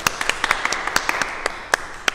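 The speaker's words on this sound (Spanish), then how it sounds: "Un aplauso para Tyler." A small church congregation at a Spanish-language Sunday Mass claps for Tyler, sparse individual hand claps sounding close and distinct in an uneven, scattered rhythm.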